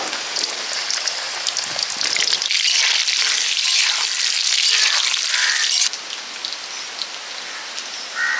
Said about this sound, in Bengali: সর্ষের তেল দিয়ে দিচ্ছি আলু দিয়ে দিচ্ছি